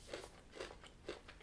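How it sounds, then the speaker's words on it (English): Crunchy chocolate-covered Flipz pretzels being bitten and chewed up close, three sharp crunches in a steady rhythm with smaller crackles between them, no talking. "it's crunchy, very crunchy, as you can probably hear"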